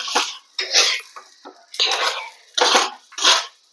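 Dirty dishes and pots clatter in bursts in a home kitchen, close and fairly loud, with clinks and scrapes separated by brief pauses.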